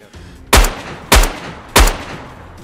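Gunfire in the video game DayZ: three loud, close single gunshots spaced roughly half a second apart, each a sharp crack followed by a short booming tail.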